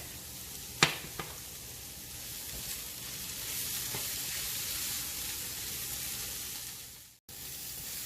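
Garlic cloves sizzle steadily in a hot pan ahead of spinach being added, a broad continuous frying hiss with a couple of sharp clinks early on, then a brief cutoff near the end.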